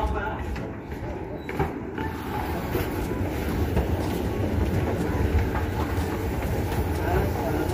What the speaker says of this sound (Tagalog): Yan, train is coming.